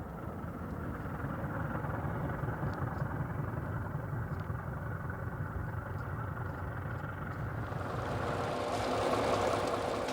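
A diesel train engine runs through the desert with a continuous low rumble and mechanical drone, steady and fairly close, swelling into a louder, brighter roar near the end.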